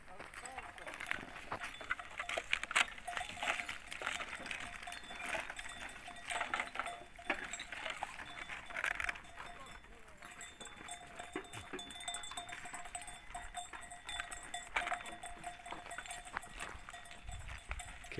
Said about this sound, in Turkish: Keçiler geziyor.